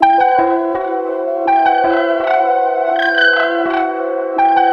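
A sustained synthesized bell tone rings with shimmering harmonics, repeatedly retriggered in a steady pattern, bright and echoing, with no voices.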